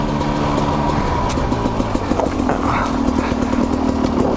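A Sherco 250 SE Factory dirt bike engine running steadily while ridden off-road, a continuous buzzing two-stroke drone with small throttle fluctuations, loud and close, no talk.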